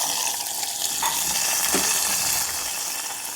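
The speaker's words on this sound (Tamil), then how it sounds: "இப்போ தாளிச்சதை கொட்டிக்கிறேன்." Hot tempering poured into tomato kadayal gives a loud, dense, continuous sizzle that holds steady for a few seconds, close up with no voices.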